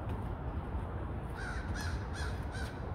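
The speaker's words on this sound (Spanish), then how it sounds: "Y se enojó el cuervo y salió volando" A crow caws several times in separate bursts through steady outdoor background noise, on a cold December walk.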